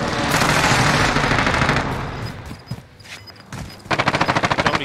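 SMG fire in Warzone, a close, loud rapid burst at the start, scattered shots and clatter in the middle, then another fast rhythmic volley at the end.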